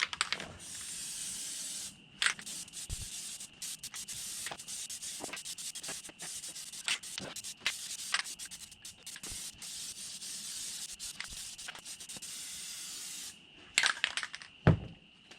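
Plasti Dip rubber coating sprayed from an aerosol can onto a Honda Pioneer 700 side-by-side: a steady, close hiss of spraying runs almost continuously, broken by brief pauses and a few sharp clicks, with no talking.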